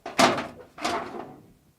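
Foley imitation of a metal drawer closing, made with improvised objects: a sharp clanking impact followed by a second, longer sliding thud, both close and distinct with no talk over them.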